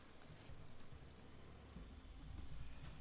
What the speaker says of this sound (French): Bon bah voilà, il pleut au moins maintenant.